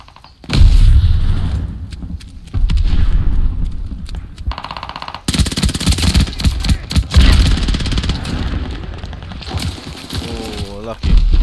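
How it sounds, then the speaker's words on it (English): A grenade blast in Call of Duty: Vanguard erupts amid loud, dense gunfire in a free-for-all match, a sharp booming burst standing out near the middle, with a player's voice at times over the chaotic combat. "Throwing grenade!"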